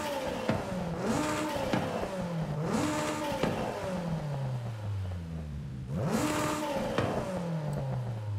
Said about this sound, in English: Now you can really hear the blow-off valve.